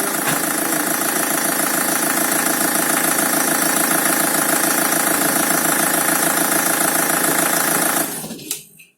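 A car with a newly fitted contract replacement engine and fresh timing chains idles loudly and steadily up close, an even mechanical chatter that cuts off abruptly near the end as the engine is shut down.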